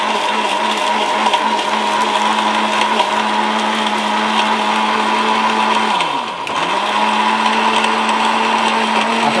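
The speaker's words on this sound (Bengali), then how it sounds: "হ্যাঁ ব্লেন্ডারের মধ্যে এটা করতে পারেন।" A Miyako electric curry cooker's blender grinds spices with a loud, steady motor whine, dipping briefly in pitch midway as the load shifts, then resuming its even roar.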